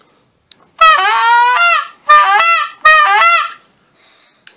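Tube goose call blown in three honking bursts, loud and close, each a rising then breaking cluck, with brief gaps and a faint click before and after.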